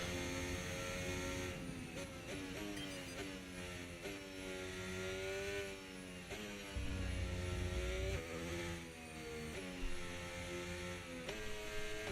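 F1 race car engine at Silverstone in the F1 25 video game, a loud continuous whine with pitch that repeatedly climbs and drops through gear shifts, steady and close throughout.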